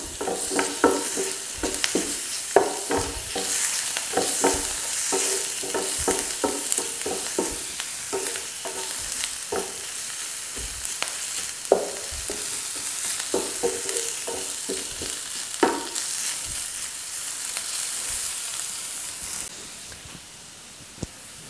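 Crushed garlic frying in a hot pan, a loud steady sizzle and hiss with repeated scraping strokes of a spoon stirring in an uneven rhythm, close up and alone.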